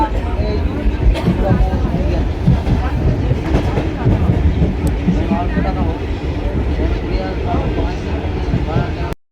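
A train rumbles with a continuous clattering roll of wheels on rails, loud and close as if heard from on board, before cutting off abruptly at the end.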